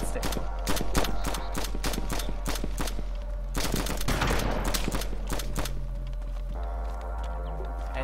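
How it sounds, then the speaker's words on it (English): Gunshots fired into the air in the survival game DayZ: a rapid string of loud, sharp cracks in quick bursts, then a short pause and a few more shots over a steady low hum. "Feel free to periodically shoot into the air."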